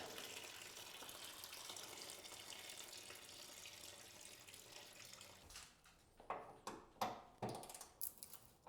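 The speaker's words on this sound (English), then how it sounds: "dump the rest of the coolant in the radiator" Coolant drains from the radiator of a BMW E36 M3 in a steady, close liquid pour, which breaks up near the end into several sharp knocks and clanks.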